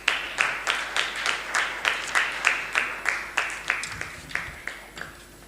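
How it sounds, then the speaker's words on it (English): An audience at an accountants' annual conference claps during a felicitation on stage, with a run of strong, evenly spaced beats that fade toward the end. "And a round of applause, please."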